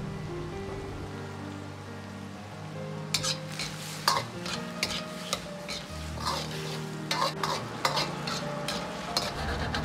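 A spoon pushes braised tofu skin and green pepper around a simmering pan, giving soft scraping strokes and clinks over a low bubbling sizzle, with silence before the stirring begins.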